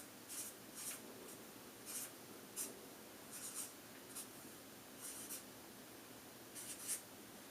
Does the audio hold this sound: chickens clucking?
no